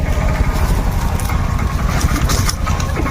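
A vehicle engine runs at idle close by, a steady low throbbing chug that continues without pause throughout.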